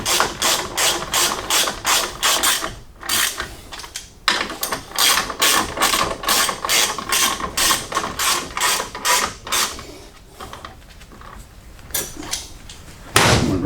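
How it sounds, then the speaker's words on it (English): Rapid clicking ratchet strokes on a 15 mm socket tightening the brake caliper bolts of an S550 EcoBoost Mustang, in repeated close bursts with short pauses between them. "Tighten the caliper bolts up."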